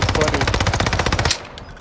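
Rapid automatic gunfire from a video game, a dense burst of shots at a steady rhythm that cuts off abruptly, leaving faint background sound.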